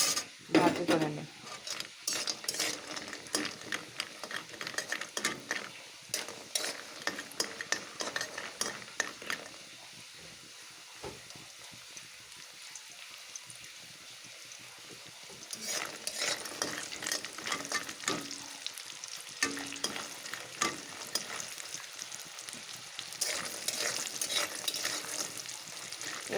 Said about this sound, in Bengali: তো চলো এই বড়িগুলোকে আমি একটু ভাজি করে নিই।